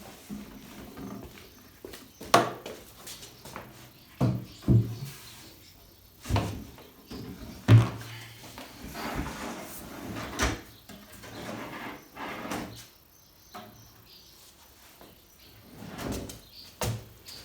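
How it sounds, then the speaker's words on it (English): Full-extension wardrobe drawers slide open and shut repeatedly, each movement ending in a sharp knock or thud, with quieter rumbling slides in between, close up in a room. "Quite nice because it's full extension. You get the whole depth of the drawer."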